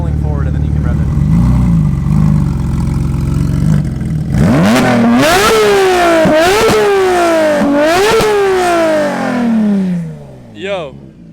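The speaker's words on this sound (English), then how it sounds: "Can you rev it for me just a little bit?" A Porsche 992 GT3 with a modified exhaust idles, then revs sharply several times while slowly rolling forward, each loud rise climbing and falling back, with people talking nearby.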